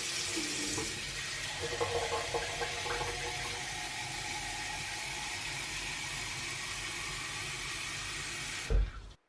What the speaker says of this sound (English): make myself the first of many mason jars filled with water